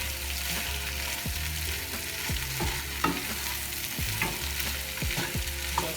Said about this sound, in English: we're just gonna let this just fry for a few seconds, few minutes